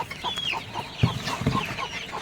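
A desi hen in a pomegranate orchard clucks in a few short, close, moderately loud notes, with no talk.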